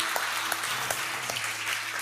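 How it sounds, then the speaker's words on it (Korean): A church congregation claps together to open a worship service, a dense, steady wash of many hands filling the room at even loudness, with a few sharper claps standing out near the front. "하느님께 박수로 예배를 시작하겠습니다"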